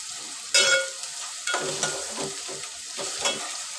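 Crushed ginger, garlic and green chilli sautéing in a pan for chicken rassa, a loud steady sizzle with repeated scraping strokes of a stirring spatula, close up and without speech.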